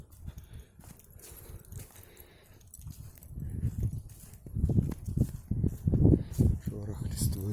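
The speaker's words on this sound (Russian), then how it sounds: "Шорох листвы." Footsteps crunch through dry leaves on a forest walk toward a chapel, rising from soft scattered steps to a steady run of closer, louder rustling strides.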